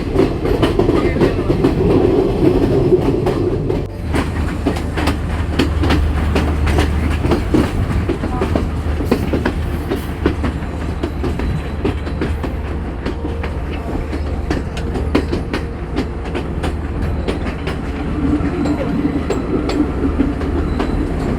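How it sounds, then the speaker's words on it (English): A passenger train climbs through the Sri Lankan highlands, with loud continuous rumble and rapid rhythmic clickety-clack of wheels on rails heard from inside the carriage for the whole stretch. "This is our first time taking a train ride, an actual locomotive that is"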